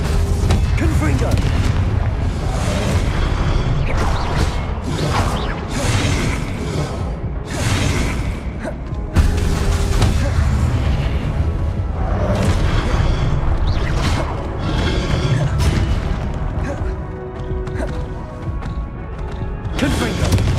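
Repeated booming blasts from the Confringo blast curse in the video game Hogwarts Legacy go off one after another, loud and close, mixed with whooshing spell effects over a continuous game soundscape.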